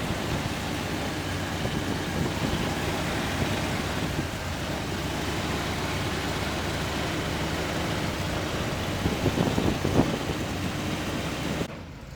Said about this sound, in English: we're going to fire it up right now